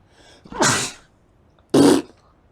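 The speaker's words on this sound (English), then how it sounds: "Sneeze." Two sharp human sneezes a second apart, close and loud against near silence, the first longer and breathier, the second short and abrupt.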